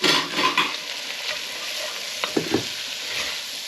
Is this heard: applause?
no